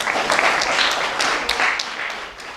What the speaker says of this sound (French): Merci de m'applaudir très très fort.